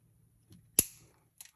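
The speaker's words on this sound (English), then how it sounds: "We're going to trim the end." Wire cutters snip the end of jewelry wire beside a purple agate bead: one sharp, close click, then a fainter small tick a moment later in an otherwise quiet space.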